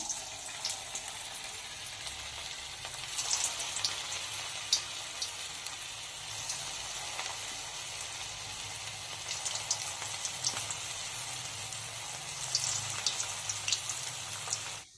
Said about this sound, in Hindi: एबे तेल गरम होईची, तो आमे छानी दबा ताको। गोटे गोटे करी धीरे धीरे छानी दबा।